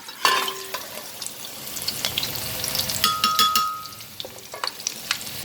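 Onions sizzling in hot oil while being stirred in a pan during goat trotter paya cooking, a steady close frying crackle with scraping stir strokes and a few clinks.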